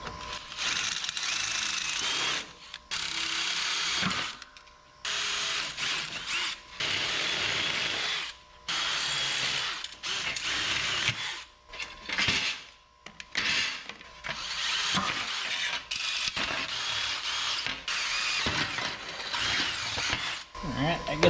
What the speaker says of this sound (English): Let's drill these out